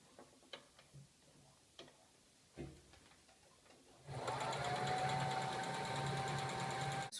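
A sewing machine stitches a skirt hem. A few soft handling clicks come first, then the machine starts up close and runs loud and steady, a fast whirring hum with a rhythmic needle tick, for about three seconds before it stops.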